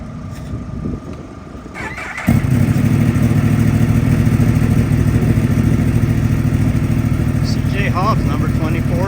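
A racing motorcycle heads out of the pit lane at Ridge Motorsports Park for an Open Super Sport race. Its engine swells into a loud, steady roar close by, and a rising whine sounds toward the end.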